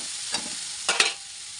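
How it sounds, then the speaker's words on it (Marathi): Vegetables with chopped coriander stirred in a frying pan over a steady sizzle, with two or three short scraping strokes, the last pair close together, then the frying hiss continuing alone. "तर याला बी चांगलं मिक्स करून घेऊया."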